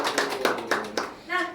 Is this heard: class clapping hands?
yes